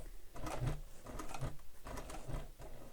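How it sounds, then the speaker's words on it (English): A sewing machine stitches fabric binding at a longer stitch length, a close, rhythmic chugging of the needle in regular pulses, fairly quiet, with no talking. "I'm going to increase my stitch length for stitching my binding"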